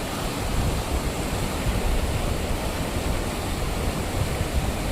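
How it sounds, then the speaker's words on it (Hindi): Loud, steady rushing water at the Sahastradhara waterfall and stream in Uttarakhand, a dense, unbroken roar that fills the whole stretch with no voices over it. "इसका साउंड सुने दोस्तों, कितना खतरनाक साउंड इस पानी का साउंड है।"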